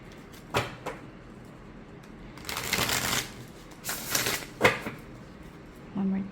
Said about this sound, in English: we will see how it shuffles